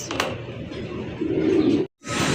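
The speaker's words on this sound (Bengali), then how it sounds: "এখানে রয়েছে চমৎকার একজোড়া রাজশাহী হাই ফ্লাইং রিওয়াজ কবুতর" A pair of Rajshahi high-flying pigeons at a pigeon farm gives a deep, rolling coo that builds and holds for about a second, heard close against a steady background hum.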